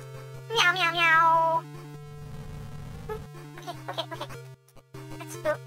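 A synthetic cat meows in a rising, wavering tone in the Game Gear game Sailor Moon Adventure, followed by a buzzy hum and a few more short mewing calls over steady game music.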